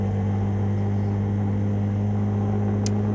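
An antique ATV quad engine drones steadily on a frozen lake, a loud, close, continuous hum with a low uneven flutter, ending in a brief high burst.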